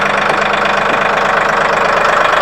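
A Mahindra tractor with a backhoe attachment sits with its diesel engine running at idle, a loud, steady knocking chug close by with a constant rhythmic throb throughout.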